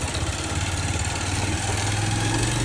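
An old motorbike engine labours under the weight of three riders, a continuous close, loud mid-pitched drone with a rising low hum and no speech over it.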